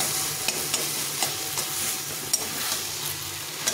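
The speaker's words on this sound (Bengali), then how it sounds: "এভাবে নেড়ে নেড়ে নেড়ে এটাকে শুকিয়ে নিতে হবে" Taro leaves with a hilsa fish head being stirred in a pan, a steady soft sizzle with faint scraping strokes of the spoon at irregular intervals, close and alone.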